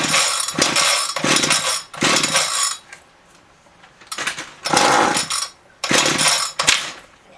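Ryobi HT26 gas hedge trimmer with a newly replaced carburetor and fuel line firing up, loud bursts of small two-stroke engine running that cut out and restart several times, close and alone.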